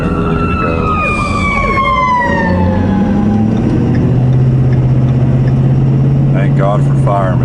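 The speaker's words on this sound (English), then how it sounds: "Got a fire truck behind me here, so I got to get out of the way." A fire truck siren wails from behind a moving vehicle on the road, loud and close, its pitch sweeping down as it passes, then giving way to a steady engine drone.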